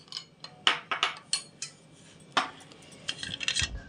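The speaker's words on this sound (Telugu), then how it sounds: "ఐస్ క్యూబ్స్ వేయాలి" Ice cubes drop into a glass of aam panna, the raw-mango drink. Sharp, bright clinks come close, some singly and some in quick clusters, with quiet pauses between them.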